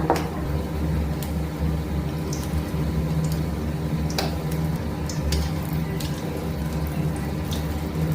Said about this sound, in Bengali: এখন এক এক করে সবগুলোকে ভেজে নেব।